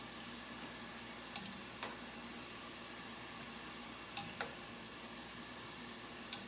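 Potatoes frying in hot oil for kimchi fries give a soft, steady sizzle with a few sharp pops and crackles scattered through, fairly quiet and close, and nobody speaks.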